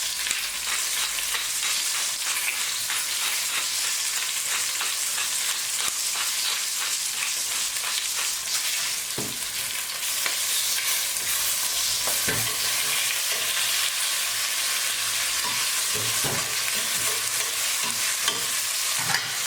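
Seasoned oxtail pieces fry and brown in a pot with a steady, loud sizzle. Occasional scraping and stirring knocks rise above it throughout, and no one speaks.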